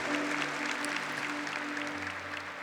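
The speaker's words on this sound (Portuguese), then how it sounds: "pode aplaudir, à vontade de Deus" A church congregation applauding during a Catholic priest's sermon, a steady crowd clapping heard at moderate distance with faint tonal hum beneath.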